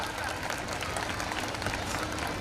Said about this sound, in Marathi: सगळ्या ताईदादांकरता एकदा जोरात टाळ्या वाजवा